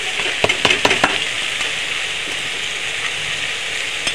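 Boiled banana flower, cooked with turmeric, frying in a pan: a constant close sizzle with a quick burst of spatula clacks and scrapes early, then a steady hiss, no voices.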